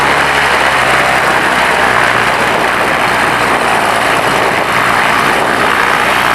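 A Bellanca 260 classic single-engine propeller airplane drones loudly and steadily close by, its engine and propeller roar filling the whole stretch without a break.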